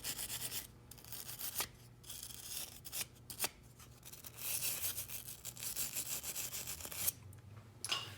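A brush scrubs the threads of a Thompson/Center Black Diamond receiver cap, giving close, steady scratchy rubbing in repeated strokes with brief pauses between them.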